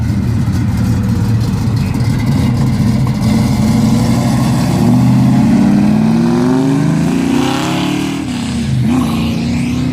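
Ford GT350 pulling away, a deep rumbling engine that idles and then revs up with rising growl, loud and steady outdoors.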